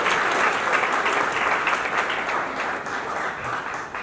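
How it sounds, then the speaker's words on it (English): Applause from the audience at an event, a thick, continuous patter of many hands clapping at a steady, fairly loud level that eases slightly near the end. "a big round of applause for all of you to be present here for this amazing initiative"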